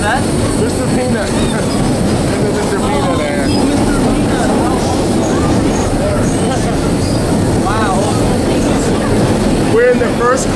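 A vintage nostalgia subway train running, heard from inside the first car: a loud, steady rumble and rattle of wheels and carriage, with squeals and a brief screech, and people chatting throughout.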